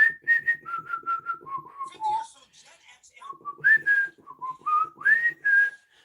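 Someone whistles a melodic tune alone, a series of clear pitched notes in short phrases with brief pauses between them, close and fairly loud.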